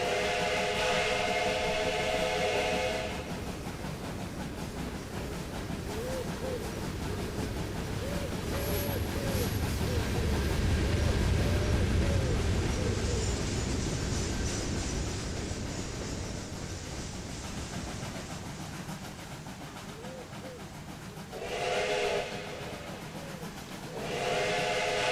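A steam locomotive in the Trainz 12 railway game gives two long, shrill whistle blasts, one at the start and one near the end, over a steady chugging rumble of the engine running along the track.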